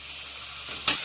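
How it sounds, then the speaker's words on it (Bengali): Onions sizzle in hot oil in a pan after pointed gourd has been fried, a steady close hiss that jumps to a sharp, loud burst of frying near the end. "পেঁয়াজ দিচ্ছি, পেঁয়াজটা লাল লাল করে"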